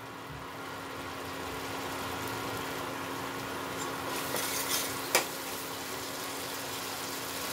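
A small cube of butter melts in a hot pan for matar paneer, giving a soft, even sizzle that stays close and steady, with one sharp click partway through and no talk.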